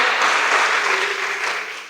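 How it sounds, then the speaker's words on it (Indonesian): Audience clapping at a church gathering, a dense, sustained burst of applause from a crowd that stays loud and fades slightly at the end. "Tepuk tangan buat dia"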